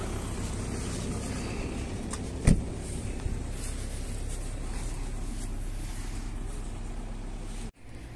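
A 2007 two-litre diesel car on a test drive in Lithuania, with steady cabin road and engine rumble throughout, a single sharp knock partway through, and a sudden cut near the end.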